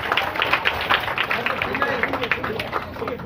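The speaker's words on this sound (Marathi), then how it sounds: "टाळ्या वाजवा, टाळ्या वाजवा" A crowd claps in quick repeated bursts at a school admission ceremony for Gudi Padwa, the applause steady and fairly close with voices mixed in.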